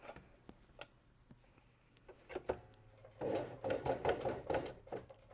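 A sewing machine stitches a collar seam, starting with a few faint isolated clicks and then breaking into louder, rapid stitching bursts as it backstitches, close by and quiet overall.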